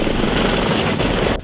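A helicopter on an Oahu tour in Hawaii roars loudly and close with a constant rotor thrum and whine, filling the moment before cutting off abruptly at the end.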